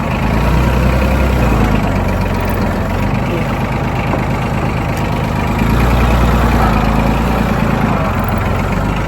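A tractor engine runs loud and steady while tilling soil on a mountainside, a constant low drone with a faint higher whine that holds nearly unchanged throughout.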